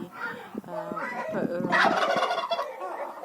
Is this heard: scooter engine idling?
no